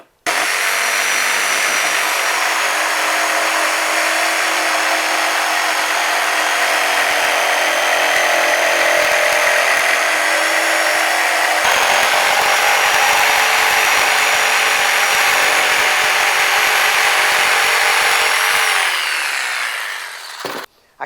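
A power saw cuts half-inch plywood in one long, loud, steady buzzing pass. The harsh grinding tone shifts slightly partway through and then winds down at the end, with no voices heard.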